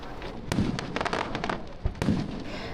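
Fireworks exploding over Niagara Falls: several loud, close booms and crackling bursts arrive in quick succession, each with a sharp attack and a short rumbling decay.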